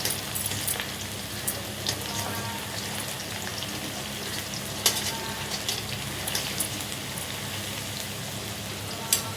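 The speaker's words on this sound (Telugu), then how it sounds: "ఫ్రై అయ్యేంతవరకు ఫ్రై చేస్తాం." Food fries in a pan with a soft, steady sizzle and faint crackles and pops scattered throughout, fairly quiet and without talk.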